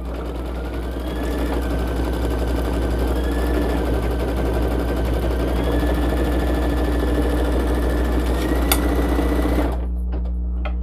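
A single-needle embroidery machine stitches a satin stitch on a hoodie in a magnetic snap hoop, giving a rapid, steady mechanical chatter up close that runs for about ten seconds and then stops.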